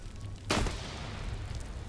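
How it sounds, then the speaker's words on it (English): A single sharp grenade blast in a PvP military shooter, a sudden loud crack with a short rumbling tail, over steady background battle noise. "Yes, just spam grenades up here."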